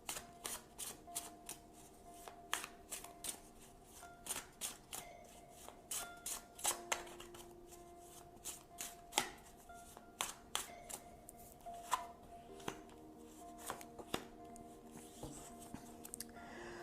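Tarot cards being shuffled by hand, a long run of crisp riffling snaps and soft flicks in an irregular rhythm, close and fairly quiet, with no talking.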